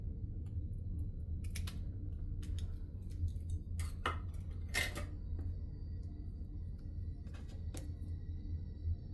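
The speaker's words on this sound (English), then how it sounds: "I think I will snip it right in the center." Paper is snipped with scissors at a crafting table while an altered index card is trimmed, giving a few sharp, close cuts scattered over several seconds above a low steady hum.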